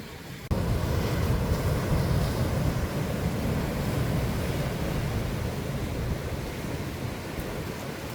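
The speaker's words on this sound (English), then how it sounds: "Tide is definitely coming in." Ocean surf rolling in steadily as the tide rises along a rocky Nova Scotia park shoreline, a continuous broadband wash of breaking waves heard close, with wind buffeting the microphone and no voices.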